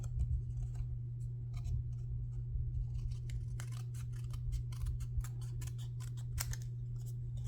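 Scissors trimming paper for a folded card, with quick crisp snips and cuts close by over a steady low hum.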